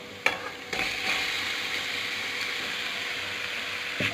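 Fish fries in a pan with chutney, sizzling steadily at moderate volume after a couple of sharp knocks, likely from a utensil against the pan.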